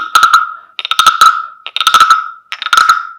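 A wooden frog rasp is scraped in four rhythmic bursts of clicking ratchets over a bright ringing tone, loud and close.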